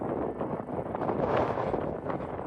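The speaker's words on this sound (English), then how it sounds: "It's so windy." Strong wind buffets the microphone on a high mountain road during a dust storm, a continuous loud roaring rush with gusty swells and no clear speech.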